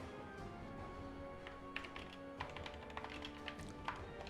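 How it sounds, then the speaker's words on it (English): Keys clack on a Corsair mechanical keyboard in quick, uneven bursts of tapping, faint and close, over a low background hum. "Mechanical keyboard, that is. That is a Corsair."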